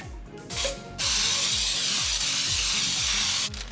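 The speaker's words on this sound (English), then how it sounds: "I'm going to use baking spray and then spray the entire pan" A steady hissing of baking spray coating a springform cake pan lasts a few seconds, close up, preceded by a short burst, over a repeating mechanical ticking rhythm.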